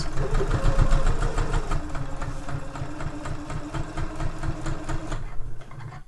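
A sewing machine stitches along one side of a zip tote bag, a continuous rapid mechanical chatter running close and loud for several seconds before easing off at the end.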